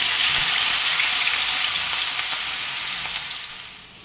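Grated onion frying in heated oil gives a steady, loud sizzle throughout, with a few brief crackles, easing slightly toward the end; no voices.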